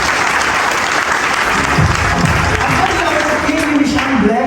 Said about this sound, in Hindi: इनके लिए तालियां बजा देंगे